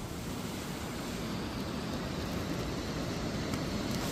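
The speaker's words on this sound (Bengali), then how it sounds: "আর নিচে দেখো একটা কত সুন্দর ঝর্ণা।" A steady, even rush of falling water from a waterfall below a mountain road in Sikkim, heard from a distance as a continuous broadband roar with no voices.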